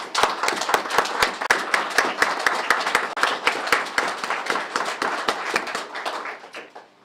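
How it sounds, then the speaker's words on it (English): A room full of people gives another round of applause for three women, Candace, Sherry and Catherine, at a live press event about a solved cold case; steady dense clapping with sharp individual hand claps, tapering off at the end. "So I just want to also acknowledge Candace, Sherry, and Catherine, and give them another round of applause."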